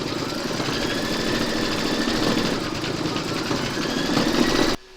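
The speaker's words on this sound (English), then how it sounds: "You're now going to pop your hoop into your machine and stitch round number 21 to secure it." Embroidery machine stitching a round of an in-the-hoop patriotic bunting project, a steady, dense mechanical whir with rapid needle chatter running continuously at close range before stopping abruptly near the end.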